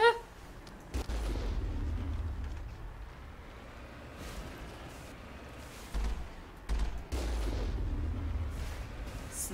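Heavy gunfire booms in a Mass Effect battle on Therum, with repeated deep blasts and sharp cracks arriving in uneven bursts over a rumbling background.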